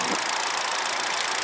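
Engine of a 2022 Hyundai Venue, a 1.6-liter 121-horsepower direct-injection unit, running under an open hood with a steady hiss-like hum and light injector ticking, close and continuous throughout.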